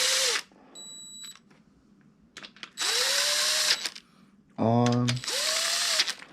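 Power tool bursts driving crank main cap bolts on a GM LM7 5.3 LS engine, with loud whirring runs and ratchet clicks between them; someone speaks briefly.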